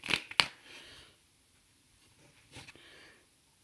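Tarot cards shuffled and drawn by hand: two sharp riffling snaps near the start, then a hushed stretch before a softer burst of card handling, close and quiet.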